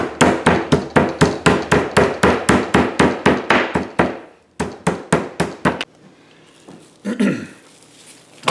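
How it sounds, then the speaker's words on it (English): A rolling pin pounds chicken breast flat in a fast, even run of loud, close thuds, about twenty in a row. After a short pause a few more strikes follow, then quieter handling sounds. "Now some people like to use a hammer or something, one of those meat hammers, I don't have one, but this rolling pin works great."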